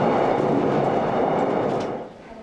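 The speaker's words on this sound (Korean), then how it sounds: "버려지는 에너지인 지하철 소음과 진동을 전기로 바꿀 수는 있을까?" A subway train roars with a steady broadband rumble and rattle close by, easing off slightly at the end, with no voices.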